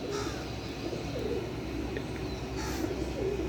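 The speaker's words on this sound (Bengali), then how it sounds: "ভোরবেলা কবুতর উড়ালাম, আর বেশিরভাগই নতুন কবুতর" Pigeons coo softly in the early morning, low repeated calls over steady outdoor background noise.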